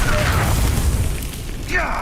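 Confringo fire spell exploding in Hogwarts Legacy, a deep booming blast with rumbling low tail, loud and close, with game voices shouting over it.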